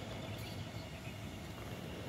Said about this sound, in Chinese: 对啊，这趟是轻轨。